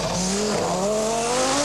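A works Audi Quattro rally car with front and rear aerofoils passes close by, its engine note sweeping in pitch with a brief tyre squeal, loud and alone.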